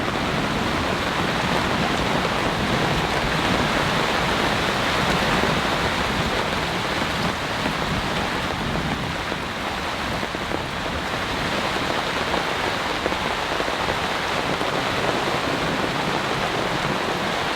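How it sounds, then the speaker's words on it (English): Heavy storm rain pours steadily onto a camping tent, a dense, unbroken hiss that stays loud and constant throughout with no voices. "It is 4:25 and it's still pouring the rain out there. It's absolutely coming down."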